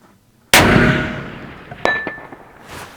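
A .308 Winchester Rossi rifle shot lands with a sharp report, followed by a clear metallic ring from a struck steel target that fades slowly, with faint later pings.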